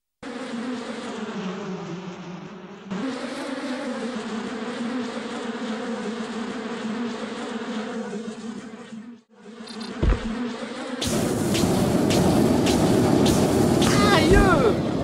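A dense, continuous buzzing of bees in a Bee Movie video game drones loudly throughout, shifting in pitch, with a rougher, busier swarm sound surging in toward the end.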